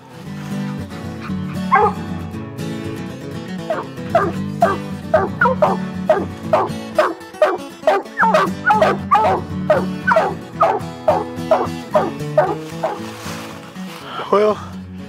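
Coon hunting dogs bay and bark repeatedly at a raccoon den tree in the Ozark hills, a dense rhythmic run of loud howling barks from several hounds, with brief talk in between.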